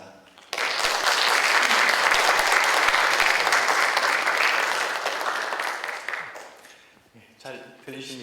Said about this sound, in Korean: 나오실 때 우리가 박수로 환영하도록 하겠습니다.